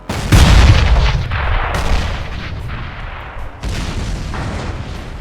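Blast Till Death attack in the Roblox game Toilet World Roleplay 2: loud, heavy booming blasts with sustained rumbling fire, several distinct hits in a rapid, continuous barrage.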